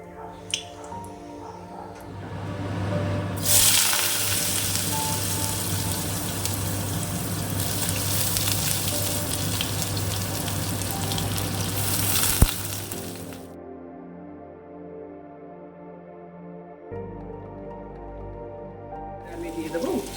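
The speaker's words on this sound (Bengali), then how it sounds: "একটা শুকনো লঙ্কা ফোড়ন দিয়ে দিচ্ছি" A dried red chili hits hot oil for tempering and sizzles loudly, a bright crackling hiss that surges after a quieter start and holds for about ten seconds before cutting off abruptly.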